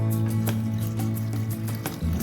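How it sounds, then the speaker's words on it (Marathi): Chana dal being washed in clean water in a bowl, with soft splashing, sloshing and dripping over a steady low hum. "तर आता पहिल्यांदा मी स्वच्छ पाण्याने धुवून घेते."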